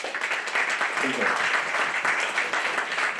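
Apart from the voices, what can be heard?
audience applause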